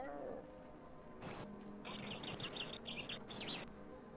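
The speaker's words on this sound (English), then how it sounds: "it sounds like I hear birds. Am I hearing birds?" Birds chirp in a forest, faint high calls repeating in a quick cluster through the middle and near the end, heard at a distance over a low steady background.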